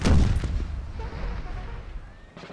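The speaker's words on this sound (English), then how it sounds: "it's a massive amount of musket fire coming down towards them as well" Booming artillery-style blast with a rolling tail of crackling musket and canister fire in the Napoleon Total War battle game, loud at first and then fading over a couple of seconds.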